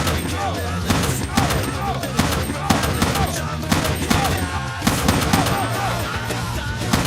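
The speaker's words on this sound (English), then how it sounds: "Let's shoot off some guns first." Dense burst of sound-effect gunfire, rapid shots and rattling bursts overlapping like a fusillade, loud and continuous for about seven seconds with no talking.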